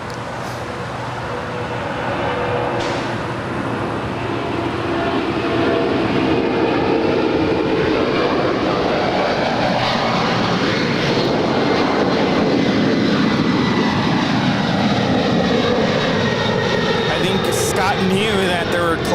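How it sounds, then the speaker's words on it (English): An MD-11 jet takes off from LAX and climbs steeply, its engine roar building and then holding loud and broad for many seconds while people talk in the background. "There goes the MD-11."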